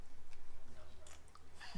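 Someone chews crunchy seaweed grapes close up, with quick, rhythmic bites and soft crunches repeating steadily.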